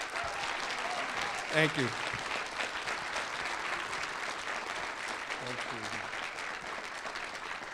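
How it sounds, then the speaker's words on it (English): An audience applauds student performers at a school division entertainment event, with steady, full clapping throughout while a performer briefly says thanks over it. "can I have another round of applause for these guys?"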